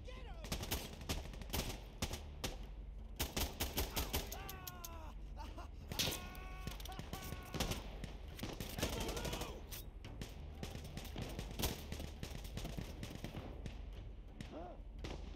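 Rapid bursts of automatic gunfire in the shooter game Insurgency crackle throughout, with dense volleys and scattered single shots, while people talk over the fighting.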